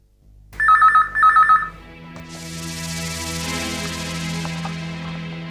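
A telephone rings twice in short electronic bursts, followed by a sustained hum as the line picks up.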